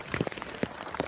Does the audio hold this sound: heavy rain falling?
yes